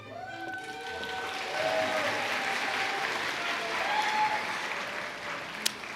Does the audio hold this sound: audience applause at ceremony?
yes